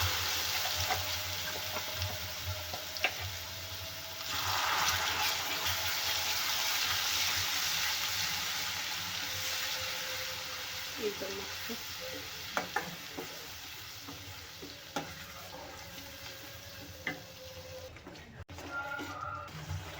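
Spiced masala for a raw banana kofta curry sizzles steadily in hot oil in a pan, with occasional stirring clinks and scrapes over the continuous frying hiss.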